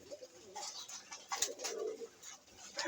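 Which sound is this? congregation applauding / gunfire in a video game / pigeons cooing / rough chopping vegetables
pigeons cooing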